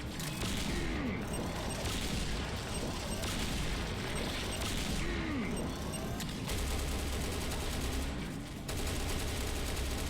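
Rapid bursts of eraser railgun fire in the shooter game Serious Sam Fusion, loud dense blasts repeating across the stretch with booming impacts and crashing debris, no pauses between volleys.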